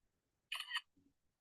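An iPhone camera in normal mode gives a quick, close shutter tick, a short crisp double-edged click, with faint low murmurs in quiet room tone around it.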